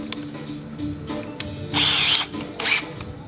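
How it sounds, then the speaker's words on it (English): A cordless screw gun, used while building a coffee can lamp, whirs in two short loud bursts after some light clicks and handling noise, each burst lasting under half a second, heard close with no talking. "Screw gun."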